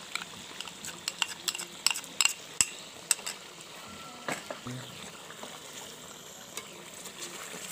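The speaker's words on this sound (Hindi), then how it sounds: "और इसको मिक्स कर लेंगे" Chicken karahi with yogurt and cream is stirred in a pot, making bursts of sharp metallic clinks and scrapes of a spoon against the pan over a soft low sizzle.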